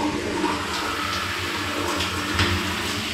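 Steady shower water pours and splashes in a bus shower cubicle, a loud, continuous rushing hiss with no break and no voices.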